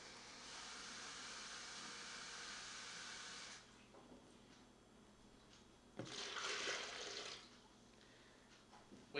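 Water pours in a steady hiss into a cooler to rinse out a sweet sugary juice mix, stopping briefly and then gushing again for a second burst, quiet and close.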